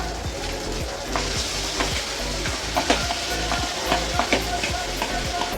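Ginger garlic paste fries in a pan with marinated chicken (yogurt, lemon, egg, cumin and coriander powder, chicken masala), giving a steady close sizzle broken by sharp stirring clinks and scrapes, with no talking.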